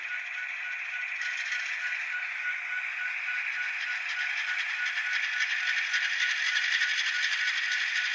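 The engine of an L.H. & Pratt mini sub idles with the parking brake on, giving a steady, close mechanical rattle and whir that holds constant and swells slightly toward the end, with no voices.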